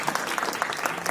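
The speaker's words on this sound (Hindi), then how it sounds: "तालियां बजाइए" Brief burst of audience clapping at a live Hindi comedy poetry gathering (kavi sammelan), dense and steady for about a second with no voices over it.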